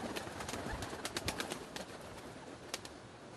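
Pigeons cooing inside a contraceptive pigeon loft, with several birds calling at once in a dense, steady murmur and occasional sharper notes, close by and without any speech.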